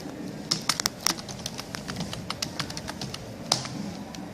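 Someone types a website title on a computer keyboard, producing a close run of sharp, irregular key clicks with brief pauses and one louder strike near the end, over faint room noise and no talking.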